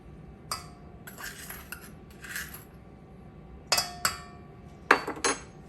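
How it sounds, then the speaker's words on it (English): Spoon clinking against a bowl while stirring milk and sugar, a series of bright, sharp metallic taps and scrapes in irregular bursts, close up and otherwise quiet. "And stir that up"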